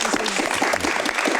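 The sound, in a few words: studio audience applause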